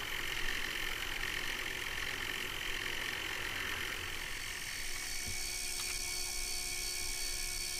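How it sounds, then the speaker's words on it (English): A drill bores halfway into a clock barrel arbor from one end on a lathe-type machine, a steady close whine and motor hum with a slight shift in pitch near the end and no talk. "we're going to drill it all the way through, but we're going to drill it from both ends and meet in the middle"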